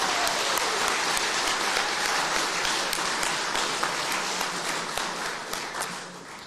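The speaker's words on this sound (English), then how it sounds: "A big round of applause to our finalists." Steady, full applause from the crowd at a regional sports awards evening in Wellington, greeting the finalists, sustained and even for several seconds before easing slightly at the end.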